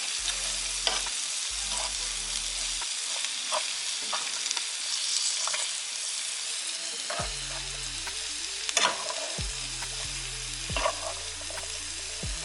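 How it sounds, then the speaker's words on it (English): Brussels sprouts sautéing with bacon in a pan, a steady close sizzle broken by repeated scraping stirs and spoon knocks against the pan, with no talking. "And you really now are just cooking your Brussels sprouts to your liking"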